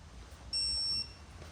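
A digital torque wrench gives a single high electronic beep lasting about half a second, sounding clearly over a quiet, low background hum.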